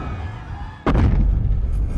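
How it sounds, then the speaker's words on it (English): Chain explosions follow a downed helicopter in the 2014 Godzilla film: a sudden loud blast cuts in partway through, then a sustained heavy roaring rumble after a quieter, tense opening. "The chopper is downed and creates a chain reaction of explosions until..."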